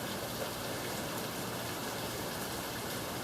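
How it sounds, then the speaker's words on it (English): Heavy rain pours in a steady, even hiss during a stormy night in Kentucky, loud and unbroken, with no voices heard. "Tons of rain coming in, boys."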